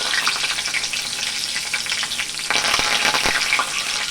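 Mustard seeds, cumin and chilies hit hot oil with a loud, continuous hiss and scattered popping crackles, growing busier toward the end.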